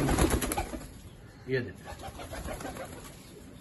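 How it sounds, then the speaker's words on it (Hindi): Golden pigeons kept in cages coo softly and intermittently at close range, with someone speaking over them. "वो दोस्तों ये है जी पहला गोल्डन, आपका शौक ला रहा हूँ और कबूतर केज में डले हुए हैं"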